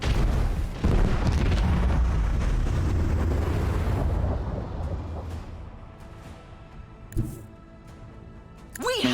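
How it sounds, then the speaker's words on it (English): Macro cannons firing in the space combat of the video game Warhammer 40,000: Rogue Trader, loud booming blasts rumbling together for several seconds, then fading to quieter thuds with a final burst at the end. "I want to hear macro cannons roar!"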